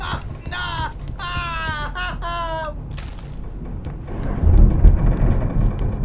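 A deep thunder rumble swells from a storm in Alan Wake Remastered, following a stretch of voiced game dialogue and rolling low and heavy toward the end.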